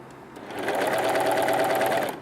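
Pfaff Coverlock 3.0 stitching a coverstitch sleeve hem, a fast steady mechanical whir that builds up quickly and runs evenly for a couple of seconds before easing off.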